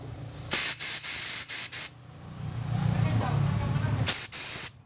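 Carburetor cleaner sprayed into the choke of a carbureted Vario motorcycle: a run of short, sharp hissing bursts, a pause with someone talking over low engine-like rumble, then two more loud spray blasts.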